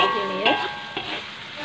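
Kuey teow noodles stir-fried with pre-boiled beef in a pan, a short close sizzle with a brief scrape of the spatula.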